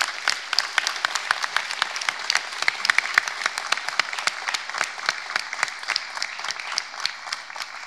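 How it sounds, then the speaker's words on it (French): Ceremony audience claps steadily at a New Year's wishes event, a dense, moderately distant patter of many hands that continues evenly with no voices. "Ces applaudissements, vos applaudissements sont mérités."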